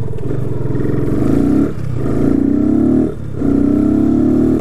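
A 250cc motorcycle running without its air filter revs hard three times in a row, a loud, close, throaty engine roar that dips briefly between each long pull toward the rev limiter.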